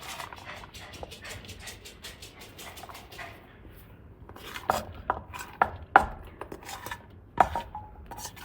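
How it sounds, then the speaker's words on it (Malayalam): Chopped beetroot drops and clatters into a cooking pan for a stir-fry in a few sharp, scattered knocks, with light kitchen clinks and a dog whimpering faintly nearby. "നമുക്ക് ബീട്രൂട്ട് ഈ ചട്ടിയിലേക്ക് ഇട്ട് കൊടുക്കാം"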